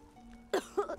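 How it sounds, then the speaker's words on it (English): Character coughing in the Octopath Traveler 2 video game, two short harsh coughs close together after a quiet lead-in, the second slightly longer and throaty, heard alone over a faint background hum. "Bad cough, huh?"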